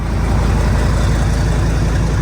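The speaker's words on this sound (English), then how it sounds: "the rattly old V10's a bit noisy" Old, rattly V10 engine of a Mercedes heavy wrecker running, a loud, steady close-up diesel drone with a dense low rumble and no pauses throughout.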